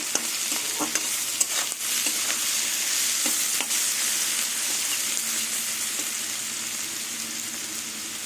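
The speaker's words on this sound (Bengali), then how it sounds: "বাটা পেঁয়াজটা দিয়ে ভালো করে যতক্ষণ ভাজা একটা পেঁয়াজের গন্ধ না বেরোবে ততক্ষণ আমি কষিয়ে যাবো" Onion paste frying and being stirred in a pan on the stove, a continuous close sizzle with occasional scraping spoon strokes, no talking.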